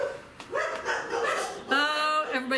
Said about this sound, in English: I'm done with this barking.